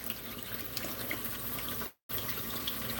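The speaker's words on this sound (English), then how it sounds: "I got my eggs running under that cold water right there" Eggs are rinsed under cold running tap water in a pot while making potato salad: a steady, close, continuous stream of splashing water that cuts out briefly near the end before resuming.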